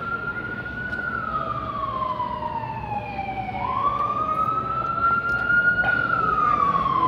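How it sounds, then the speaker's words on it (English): A wailing ambulance siren sweeps slowly up and down, growing louder as it approaches over a low rumble of street noise on South Street. "There's an ambulance now."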